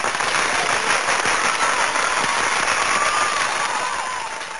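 Dense, steady applause sound effect fills the whole stretch at full level, a thick wash of many hands clapping with a faint whistle-like tone drifting through, tapering slightly at the end. No voices.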